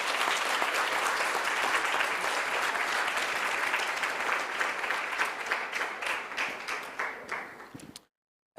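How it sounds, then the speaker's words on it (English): Delegates at a mock assembly of heads of state clap after a resolution passes: dense, loud applause that thins into scattered individual claps near the end before stopping abruptly. "clapping is in order, delegates"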